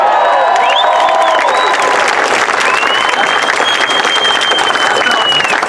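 A big crowd at the 2016 Warrior Games opening ceremony at West Point cheers and applauds steadily and loudly for the whole stretch, a dense wash of clapping with whistles rising above it.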